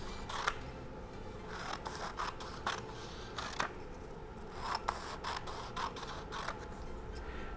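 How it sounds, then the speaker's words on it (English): Scissors snip through strips of black paper in a series of crisp cuts, some spaced and some in quick pairs, quiet and close with a soft rustling of paper between them. "now you want to cut little pieces of black paper that are going to allow you to make that design"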